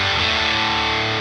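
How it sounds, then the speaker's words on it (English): Jazzmaster electric guitar through a Sonicake Fazy Sandwich fuzz pedal with the tone rolled back, a single thick, sustained distorted chord ringing steadily for a moment. "you get the fuzz that kind of act as a distortion"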